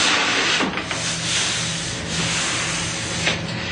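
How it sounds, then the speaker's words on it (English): A hand slowly wipes down a sheet of plastic laminate, making a continuous soft rubbing and brushing sound close by, with a few slightly stronger strokes. "I'm taking them off in order and kind of wiping this down slowly as I do, so that I don't get any buckles."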